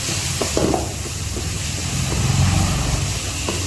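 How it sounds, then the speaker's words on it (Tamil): Tomato sautés in a pan as the base for a spicy mutton bone gravy, making a soft continuous sizzle with a few stirring scrapes. The sound is close and moderately loud, with no speech. "பாருங்கள் நல்லா வதங்கிடுச்சு"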